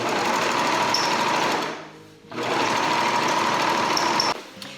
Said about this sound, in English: sewing all the pieces together